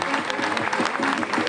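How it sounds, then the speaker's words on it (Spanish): An audience applauds steadily at a public event, a dense, even patter of clapping filling the short stretch. "Quiero que por favor le den este fuerte aplauso a nuestra compañera"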